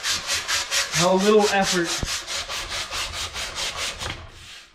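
Wood being hand-sanded to round an oar shaft into a dowel, a steady rhythmic back-and-forth rasp of repeated strokes close up, with a brief spoken phrase partway through.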